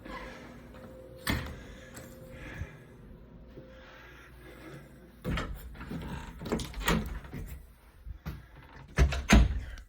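A set of double doors at a music composition studio opens with several clunks and knocks spread out over time, amid quiet room noise and shuffling.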